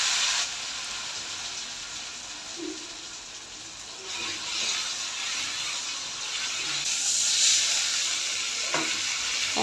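Ground spice paste frying in a pan, giving a soft continuous hiss and sizzle that swells slightly over time, with a few faint clinks and no talking.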